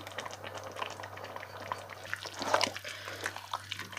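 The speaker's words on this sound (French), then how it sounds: "On va laisser mijoter un petit peu." A cream and cornstarch mixture simmers quietly in a pot, giving soft irregular bubbling pops and blips over a low steady hum, faint and close.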